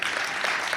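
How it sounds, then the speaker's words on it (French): An audience at a Christian panel discussion on marijuana legalization applauds in a brief, steady wash of clapping heard from a distance, with no voices over it. "vous pouvez l'applaudir"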